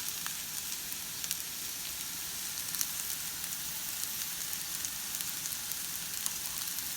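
Vegetables sizzling in a hot pan while cooking: a steady, bright, close crackling hiss with tiny pops scattered throughout, constant and moderately quiet, with no talk over it.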